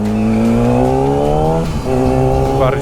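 A loud motorcycle engine revs steadily, its pitch climbing, then dips and rises again near the end, with no talking.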